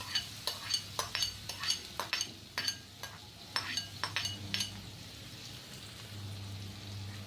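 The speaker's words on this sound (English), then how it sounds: "We will now mix everything well together." Onions with turmeric and asafoetida stirred in a pan, a quick run of crisp clicks and scrapes of the utensil up close, then a soft steady sizzle with no talking.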